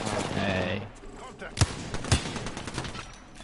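Two sharp gunshots ring out in the video game Apex Legends, spaced about half a second apart, over faint background game noise and a voice talking early on.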